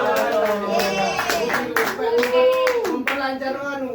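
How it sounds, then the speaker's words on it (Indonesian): A clapping ice-breaker game in a group counseling session, with sharp hand claps in bursts counting up from one to five and voices talking and chanting over them, close and fairly loud. "Untuk ice breakingnya itu ada tepuk 1 sampai 5"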